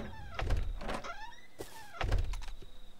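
Doors in the game Rust swing and thunk shut in several close, distinct open-and-close strokes, each with a short creaking sweep, loud and alone without talk.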